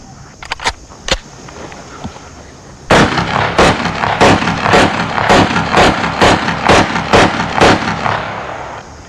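Rapid gunfire from shooting practice in a film: a few scattered sharp shots, then a loud, sustained burst of evenly spaced cracks close by, each one ringing out in quick succession.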